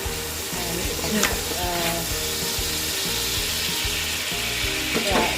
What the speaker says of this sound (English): So just stir fry till all the beef is turning brown